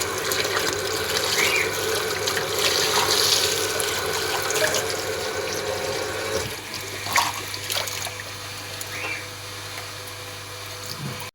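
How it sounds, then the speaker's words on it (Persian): Fresh herbs are washed under a running kitchen tap, water gushing and splashing steadily and loudly up close, with the flow easing slightly partway through and continuing without any talking. "من شستم سبزیمو"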